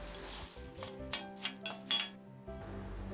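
Light clinks and taps of fried shallots dropping into a bowl, a few scattered crisp contacts against quiet background.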